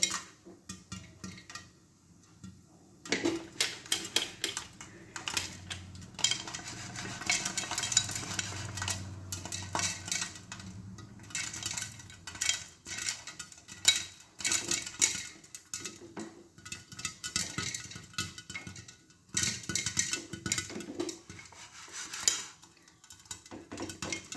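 Sorghum (jowar) kernels pop in a pan over a medium gas flame. Irregular sharp pops and clinks bunch into busy clusters, with brief quiet gaps between bursts.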